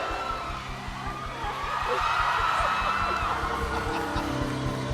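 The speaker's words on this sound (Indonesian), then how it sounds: "Tepuk tangan sekali lagi dong buat Aldi Taher" An audience at an outdoor political road show for young voters claps and cheers for Aldi Taher, a dense, loud crowd roar that swells after the first couple of seconds and holds steady.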